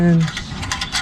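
A Phillips screwdriver works loose the small clamp at the bottom of a slip-on exhaust on a 2022 Kawasaki Ninja 400, giving a quick run of close, dry ratcheting clicks.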